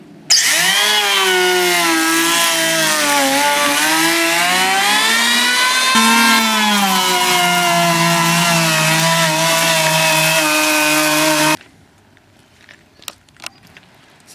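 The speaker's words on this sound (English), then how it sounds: "run around the top with an electric planer just to take off the sharp edges" Electric planer taking the sharp edges off the top of a macrocarpa cypress raised garden planter box, a loud, close, steady high whine with shifting pitch for about eleven seconds, then it stops and a few faint knocks follow.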